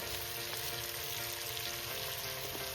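Chopped pumpkin leaves sizzle in a hot pan as a dense, even hiss with steady crackle, unbroken and fairly close throughout.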